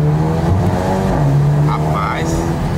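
A Mercedes AMG car revving and accelerating hard, its engine note loud and close in a brief burst, with people talking over it.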